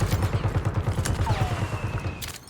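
Rapid, rhythmic gunfire bursts from a Call of Duty Warzone match on Rebirth Island, a steady automatic rattle that fades near the end, with no talk.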